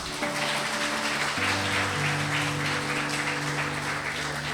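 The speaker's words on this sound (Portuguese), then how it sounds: "Vamos aplaudir Jesus." A church crowd claps loudly and continuously in dense, even applause, with sustained musical tones underneath.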